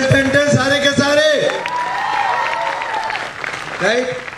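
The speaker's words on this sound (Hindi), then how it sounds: "जोरदार तालियां इसके लिए" Audience applause with cheering and whoops in a shipboard auditorium aboard a cruise, sustained clapping mixed with crowd voices.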